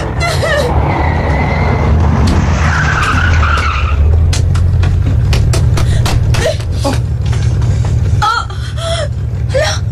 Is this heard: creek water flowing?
no